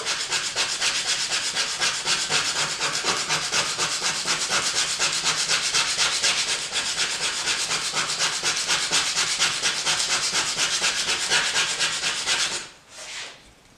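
Steady rhythmic scraping of a trim tool knife blade being sharpened, strokes running continuously and close for about twelve seconds before stopping abruptly, with no talking.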